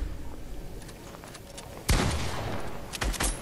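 Gunshots in Fortnite, a sudden burst of loud rapid gunfire erupting partway through after quieter background, followed by a few more sharp shots near the end.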